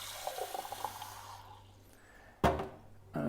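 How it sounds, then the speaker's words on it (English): A kitchen faucet runs tap water with a gentle hissing flow that fades and drops off, followed by a couple of sharper gushing bursts as water splashes, close by and alone. "what I'm going to do first of all is I'm going to get some tap water"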